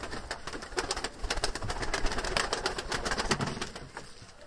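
Mardin tumbler pigeons coo and shuffle close by in a continuous busy stretch, with soft flutters and scratchy rustling from a group of the old Mardin birds.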